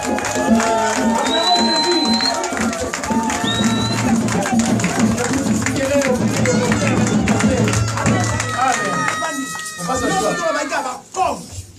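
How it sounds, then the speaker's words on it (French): Church congregation acclaiming Jesus: a dense crowd roar of cheering voices, whistles and shouts, loud and continuous under a drone of music, swelling throughout before cutting off near the end. "Acclamons Jésus très fort."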